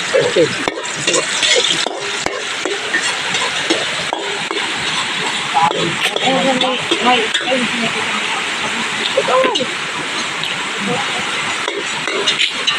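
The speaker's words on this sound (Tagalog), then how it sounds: "Ilalagay na yung sibuyas." Sliced onions dropped into a hot pan of oil, sizzling and hissing steadily at close range, with stirring clatter and voices talking over the cooking.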